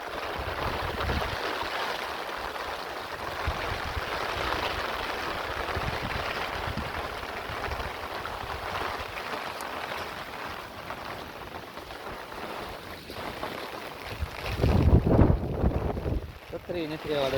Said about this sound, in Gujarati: બંધ થઈ જાય તો સારું વરસાદ હવે તો.